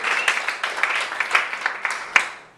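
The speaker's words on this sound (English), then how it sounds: "how about one more round of applause for Sandy and all the comments you saw tonight?" A comedy festival audience applauds, with quick, loud, overlapping claps that swell and then taper off toward the end.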